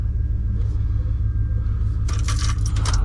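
A truck's starter, mounted in an awkward spot, gives a burst of rapid, loud metallic clicking in the final second, over a steady low engine rumble.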